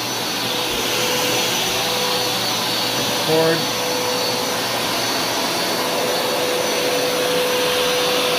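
Hoover Smartwash automatic carpet cleaner running with a loud, steady whine and rushing airflow, a person speaking briefly over the constant drone.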